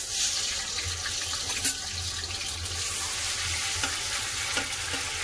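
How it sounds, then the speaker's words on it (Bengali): Potatoes and green bananas dropped into hot white (non-mustard) cooking oil in a kadai, giving a steady close broadband sizzle with faint clinks and no talk. "তেল গরম হয়ে গেছে, এবার কলা আর আলুগুলো দিয়ে দেবো।"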